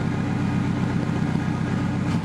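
A turbocharged VW Bug engine runs steadily at close range, a dense, rough low rumble that holds level throughout with no voices over it.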